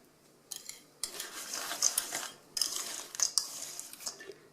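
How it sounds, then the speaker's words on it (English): A spoon scrapes and clinks around a bowl, mixing dry ingredients with coconut oil and stevia in bursts of gritty stirring with sharp metallic taps, close and fairly quiet with no voices. "So just mix that in really well"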